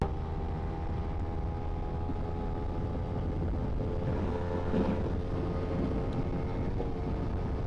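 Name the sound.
250cc motorcycle accelerating in fifth gear on highway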